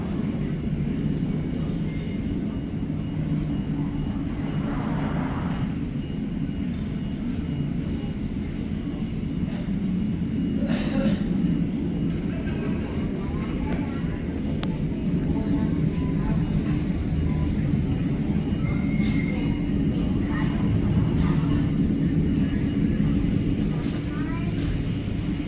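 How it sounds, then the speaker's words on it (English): A Lufthansa Airbus A380 airliner at LAX produces a steady, loud jet engine roar that holds through the whole stretch, with a few faint clicks and knocks on top. "So in a moment you will see Lufthansa Airbus A380 coming this way."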